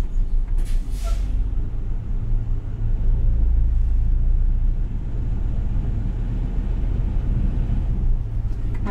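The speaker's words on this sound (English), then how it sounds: "I will now test that my parking brake holds in gear." A school bus engine idles in gear as its parking brake is tested, giving a deep, continuous rumble close by. A brief hiss of air near the start sits above the steady drone.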